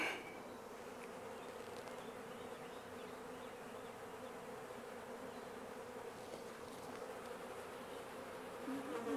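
A honeybee swarm gives off a continuous low buzz, faint and steady throughout, with no voices over it.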